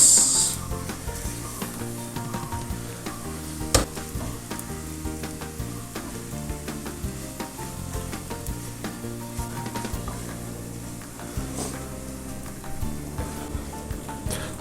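Beef dry fry sizzling and crackling in a hot oiled pan, a loud steady frying hiss with occasional stirring scrapes and clinks, no voices.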